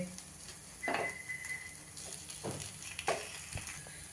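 Mung dal appe frying in oil in an appe pan, a soft steady sizzle broken by a few metallic clinks and scrapes as the dumplings are turned one by one, close and clear with no talk.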